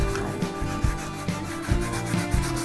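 Painted wooden drawers are sanded by hand, blue paint worn through to bare wood, in steady back-and-forth rubbing strokes, close and fairly loud with no voices.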